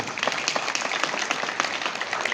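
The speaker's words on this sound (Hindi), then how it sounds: "अपने लिए ताली बजाइए" A short burst of crowd applause at a traders' conference, many hands clapping together in a dense, steady patter.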